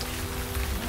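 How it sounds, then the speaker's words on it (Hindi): Monsoon rain falling in the Himachal mountains: a dense, steady hiss of rainfall with low rumbling underneath, continuous for a brief moment, with no voices. "यहाँ पे बारिश की बूंदें नहीं आ रही है।"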